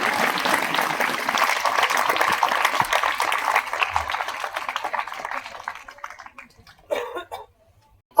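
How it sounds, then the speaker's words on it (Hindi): An audience at a youth convention prize distribution ceremony claps steadily and loudly for about six seconds, the applause gradually thinning and dying away, followed by a few scattered sounds. "और जोरदार तालियों से स्वागत होना चाहिए।"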